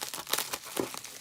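Plastic or paper packaging on an $18 candle crinkles and tears as it is unwrapped, a brief, close, continuous crackling with a few sharper crunches.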